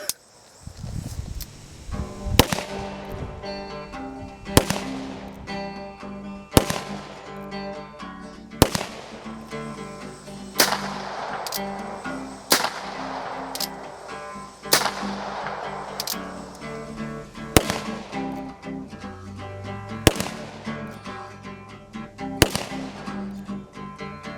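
A Charles Daly 1873 single action revolver fires about ten loud, sharp shots spaced a couple of seconds apart, each with a short ringing tail and a steady low background between reports.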